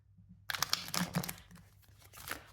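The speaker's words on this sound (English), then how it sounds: "I'm going to shuffle the cards, pull out 6 cards" Tarot cards are shuffled by hand, a burst of crisp riffling and snapping that starts after a short silence, then settles into softer rustles and a last flick.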